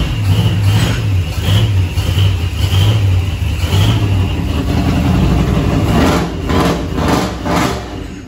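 A 1948 Chevrolet 3600 truck with a small, bored-out engine revs loudly and close up through its exhaust and mufflers, in a series of rising and falling pulls that settle toward idle near the end.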